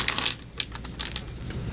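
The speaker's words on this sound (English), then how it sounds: "I'm really trying to shuffle these good." Tarot cards being shuffled by hand, a quick run of light crisp riffling flutters and soft flicks in close succession, close and fairly quiet with no talk.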